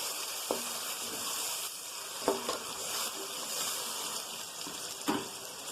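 Tomato paste goes into a pan of frying onions for tomato rice, and a steady sizzle carries on with a few soft clinks and taps of the spoon.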